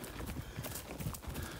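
A horse's hooves clip-clop faintly and steadily while it is being exercised, under a thick layer of outdoor background noise.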